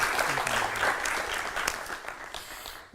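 An in-studio audience applauds during a Hindi television news debate, steady, full clapping throughout with faint voices and a brief sound at the very end.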